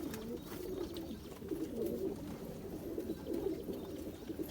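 A male Zeera pigeon coos softly, repeated low rolling calls in a loose rhythm, close but quiet against faint background noise.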